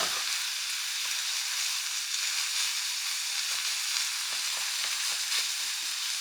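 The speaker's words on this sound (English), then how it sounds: "So go ahead, move them around, and now we can get some browning on the other side." Mushrooms sauté in a pan with a constant bright sizzle, while soft scraping and knocks from being moved around break through at irregular intervals; nobody speaks.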